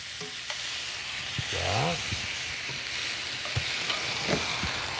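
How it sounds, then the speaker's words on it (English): Steak and ginger sizzle and fry in a stir-fry pan with a constant loud hiss, broken by occasional scrapes and clinks of stirring, and a brief voice is heard. "Basically with a stir fry, you're focusing on cooking fairly quickly and getting it into your sauce."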